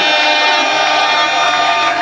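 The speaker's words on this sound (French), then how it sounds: "applaudissez très fort pour vos cadeaux." Wedding guests give dense, sustained applause with a crowd roar, loud and continuous from start to end without clear gaps.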